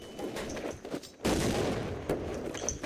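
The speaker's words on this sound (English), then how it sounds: "Flashbang grenades." A flashbang grenade bursts with a sudden loud broadband bang midway through a Counter-Strike: Source match, followed by a sustained ringing hiss amid scattered gunfire.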